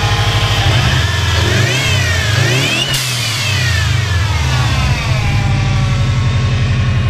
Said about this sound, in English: but the blow-off valve works